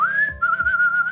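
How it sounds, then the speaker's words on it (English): Close, clear whistling by prisoners in a jail scene, copied from the Pirates of the Caribbean ride, gives a steady high tone broken into a few short repeated notes, alone and loud. "And it's the prisoners whistling at the dog to try and get him to bring him the key."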